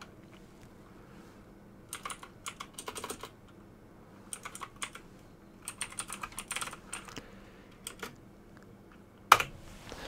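Computer keyboard typing while writing JavaScript functions, heard as quiet, close clusters of soft key clicks separated by pauses, ending in one sharper, louder tap.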